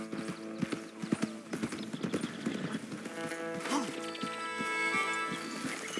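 Horses trotting in Red Dead Redemption 2, a steady run of hoof clip-clops over layered game ambience and music, fairly close and moderately loud, continuing throughout.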